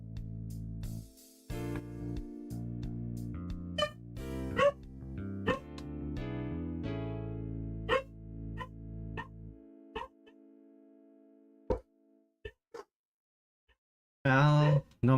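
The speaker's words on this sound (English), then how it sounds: "but lots of dogs" Dogs bark outside a home at night, short sharp yelps scattered through a steady tonal background, with a louder cluster of barking near the end.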